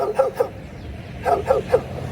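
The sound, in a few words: junkyard dogs barking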